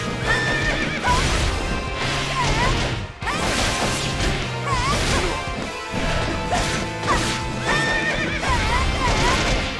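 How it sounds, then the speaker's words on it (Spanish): Horse neighs and whinnies from the Fire Emblem video game, repeated several times over clip-clopping hooves and clashing battle effects, loud and continuous. "Me está empezando a rayar un poquito el caballito"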